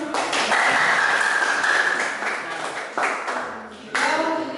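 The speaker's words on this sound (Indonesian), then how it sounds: "Oke, kasih aplaus dulu teman-teman." Students applaud in a classroom: a few seconds of dense clapping that fades, then short fresh bursts of claps.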